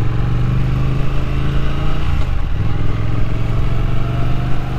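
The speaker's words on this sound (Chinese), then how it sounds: "这个引擎的声音非常的舒服" A Triumph Thruxton RS cafe racer motorcycle engine runs loud and close under riding, a steady throaty drone with a brief dip in revs midway before it picks back up.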